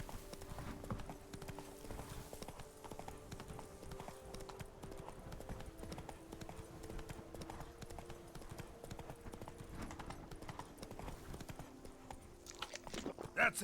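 Roach the horse gallops off-road in The Witcher 3, a steady run of hoof clip-clops at a moderate distance continuing throughout, with a brief louder burst near the end.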